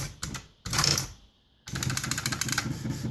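An IBM Lexmark Wheelwriter 2 electric typewriter erasing with its correction ribbon: rapid mechanical clacking bursts, a short whirring pause, then a steady run of quick repeated strikes, close and loud.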